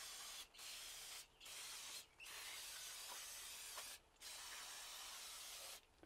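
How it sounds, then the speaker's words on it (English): An aerosol can of brake cleaner sprays trailer brake shoes and backing plate in four long hissing bursts with brief gaps between them, close and steady, with no voices. "we're just going to spray the brake shoes and backing plate assembly"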